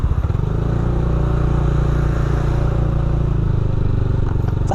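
Steady motorcycle engine running close by at a test spot, a loud even idle-to-mid rumble with a slight surge at the start, holding constant throughout with no talk.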